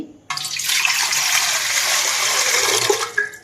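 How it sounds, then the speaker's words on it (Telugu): Water pours steadily into a metal idli steamer for about three seconds, a bright splashing rush that stops near the end. "ఇడ్లీ పాత్ర తీసుకుని దానిలోకి ఇది ఒక అర లీటర్ వరకు నీళ్ళు పోసుకోవాలండి"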